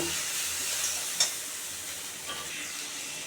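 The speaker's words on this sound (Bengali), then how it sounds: "একটু মিষ্টিও দিয়ে দিলাম হাফ চামচ এখন নেড়ে দেব" Jackfruit seeds, garlic and chilli frying in a pan give a faint, even hiss, with one brief metallic tap of a stirring utensil and a softer scrape later, no voices.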